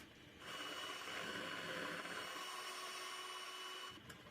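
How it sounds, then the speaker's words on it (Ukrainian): An electric mixer whirs steadily while whipping hot sugar syrup with gelatin, starting and stopping abruptly with a continuous droning motor tone in between, close and without talk. "Для цього я беру міксер і збиваю."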